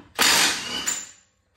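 A power tool spins off the axle nut on a 2017 Chevrolet Traverse during a rear wheel bearing replacement, giving one loud, close burst of mechanical whirring and rattling that lasts about a second before cutting off.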